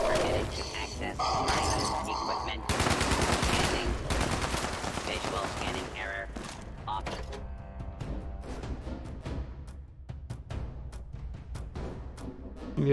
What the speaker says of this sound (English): I'm trying to shoot a bit long range for a shotgun